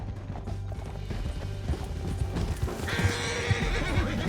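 Horseback riding in Red Dead Redemption 2: hooves clip-clop steadily under a canyon chase, with creaking gear and tack. A horse whinnies, and a bright whooshing layer rises near the end. The scene is busy, with no clear talk.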